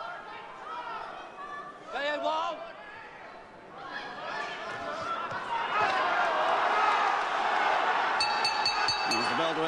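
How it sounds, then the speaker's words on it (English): A crowd at a 1977 local boxing bout between two Merthyr Tydfil fighters clamours and swells, growing louder toward the end. A commentator talks over the noise, and a short ringing bell cuts in near the end. "this crowd alight with excitement now about this local battle"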